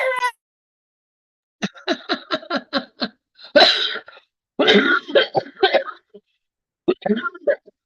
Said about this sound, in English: Making me cough from laughing so hard.